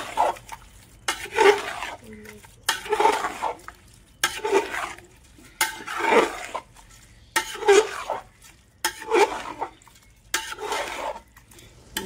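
Washed rice is stirred in a pot while making khichdi, with about seven evenly spaced scraping strokes of a spoon against the pot, close and clear over faint kitchen sizzle.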